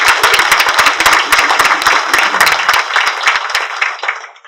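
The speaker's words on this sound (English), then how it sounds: "I think that deserves a round of applause." Audience applause at a business conference launch in Greater Fort Lauderdale, dense, loud clapping from many hands that tapers off and fades out near the end.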